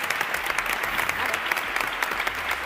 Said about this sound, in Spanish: Pero el último aplauso que sea para Julio.